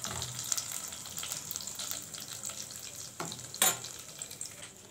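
Peanuts toasting in a spoonful of butter in a pan, a steady soft sizzle with brief scraping stir sounds, fairly quiet and without voices.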